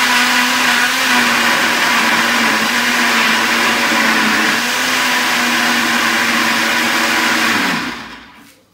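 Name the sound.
blender grinding onion and tomatoes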